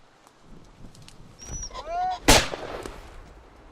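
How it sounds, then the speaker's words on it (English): A single sharp shotgun blast fired at a cock pheasant during a hunt in rough weather, loud and close, following faint rustling and a short bird-like squeal just before. "starts out with a fine shot at a cock pheasant"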